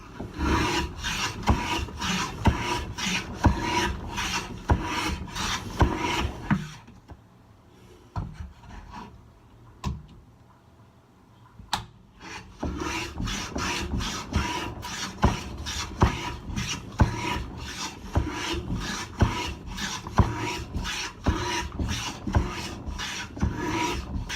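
A Bridge City CT-14 Foxtail shoulder plane takes repeated rasping strokes across wood, loud and close. The strokes come in a steady rhythm, pause briefly in the middle, then resume.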